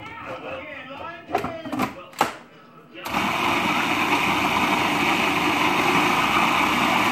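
Black bean brownie batter churns in a blender that starts abruptly after a few seconds of clatter and kicks into a loud, steady whirring drone running to the end.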